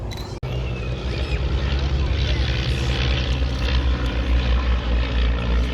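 A display aircraft at an air show flies a half Cuban with a roll off the top, its engine a steady loud drone that holds and swells slightly after a brief dropout, with a commentator heard faintly.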